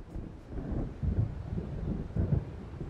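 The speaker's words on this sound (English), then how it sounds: "It seems there's a storm coming." Low rumbling thunder rolls in with an approaching storm in the Alan Wake video game, a muffled, continuous low-frequency growl with a few heavier swells and wind-like noise, with no voices.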